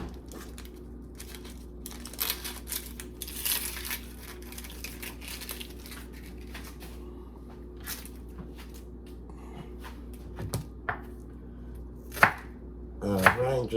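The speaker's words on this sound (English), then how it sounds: "just chop it off fine" Knife chopping half of a large peeled onion for shrimp ceviche, steady light taps on a board with a low hum underneath and a few sharper clicks near the end.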